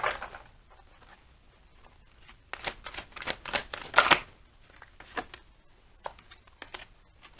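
Tarot cards are shuffled and drawn by hand, making a quick burst of riffling flutters in the middle and lighter scattered card snaps around it, close and quiet.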